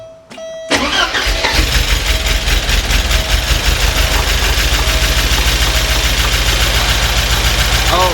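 A Porsche 944 being started for the first time in a long while cranks briefly, catches and roars to life, then runs loud and steady at a rough, uneven idle close by.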